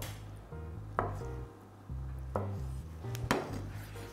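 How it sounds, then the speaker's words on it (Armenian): Knife chopping boiled eggs on a board for a salad, a few sharp, irregular knocks over a steady low background hum, close and fairly loud, with no voices. "նախապես խաշած ձու ենք մանրացնում"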